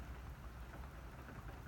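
Rain falls outside, a soft, steady wash of patter heard faintly indoors with no voices over it.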